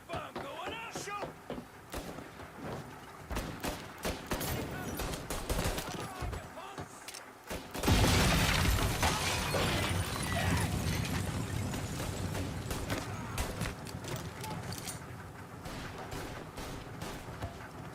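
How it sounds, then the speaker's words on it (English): Firebomb and gunfire in Mafia Definitive Edition, a scattered volley of sharp shots over the first half, then a loud burst of fire and blasts, with shouting voices over the top. "Firebomb going up!"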